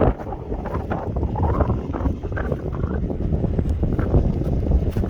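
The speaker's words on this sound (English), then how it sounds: "I know it's windy" Gusty wind buffets the microphone outdoors in an oat field being rolled, a loud, continuous low rumble with fluctuating roar across the whole stretch and no voices.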